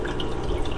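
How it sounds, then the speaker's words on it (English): Water slowly drips and trickles into a Neocaridina shrimp tank from a bucket of RO/DI water, a close, continuous soft splashing with small drip accents. "basically I'm slow dripping water"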